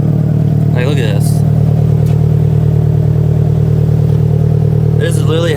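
A 2009 Subaru WRX swapped to an EJ205 engine idles loud and close with a deep, steady rumble, while someone talks over it.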